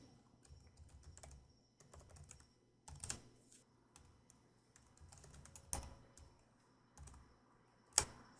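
Quiet keyboard typing of terminal commands, with bursts of soft key clicks separated by short pauses and one sharper tap near the end, heard alone with no speech.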